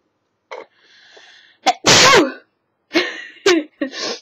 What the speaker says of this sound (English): I had to sneeze for ages and I was really holding it in